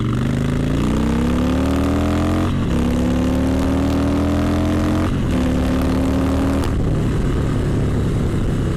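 A 2017 Harley-Davidson Softail Slim S with its 110 engine pulls hard, loud and close, its rising growl broken by several quick gear changes, each followed by another climbing rev.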